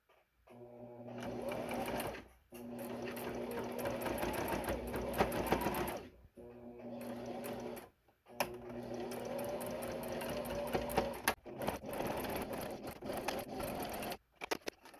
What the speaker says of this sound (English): And this is where you'll sew that line.